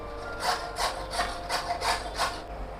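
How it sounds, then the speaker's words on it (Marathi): A carrot is rubbed against a kitchen grater in about six even rasping strokes, each a short scratchy burst, close and clear with no talking. "गाजर किसून झालं आहे."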